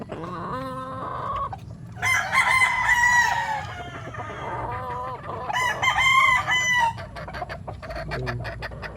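A golden boy sweater gamefowl rooster, a cross close to Boston Roundhead, crows loudly twice at close range with a few clucks in between, over faint background farm noise.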